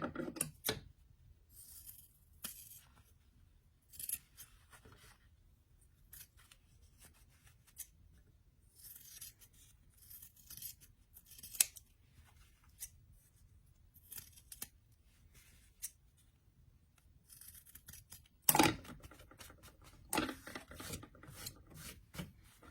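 Scissors trim the top edge of a small sewn fabric doll beach bag, giving intermittent quiet snips and rustles scattered through the passage, with a sharper cut near the end and no talking.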